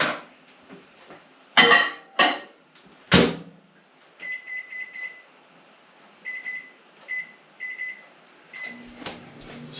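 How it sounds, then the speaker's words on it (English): A kitchen microwave oven is used while making peanut butter butterscotch marshmallow squares. A few sharp clunks from the door and dish are followed by runs of short, evenly spaced keypad beeps, with no one talking. "I'm just going to go over here to the microwave."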